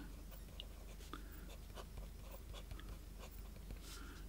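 A Pelikan Souverän M600 fountain pen with an EF nib scratches faintly across paper in short strokes, close and quiet, with soft intermittent taps and pauses between lines.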